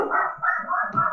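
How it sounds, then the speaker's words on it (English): Dogs barking at home, a quick run of several close, loud barks one after another with no talk over them. "They're barking probably at somebody that's walking."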